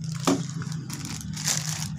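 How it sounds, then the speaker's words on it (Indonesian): Plastic bubble wrap packaging from an E88 drone is handled up close, with soft crinkling and rustling, a sharper crackle near the start and another burst of rustle toward the end. "Kemasannya plastik bubble."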